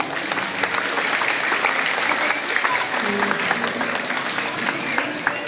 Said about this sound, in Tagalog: bigyan natin ng malakas na palakpak ang ating mga kuya na narito para tanggapin kayo sa ating scouting movement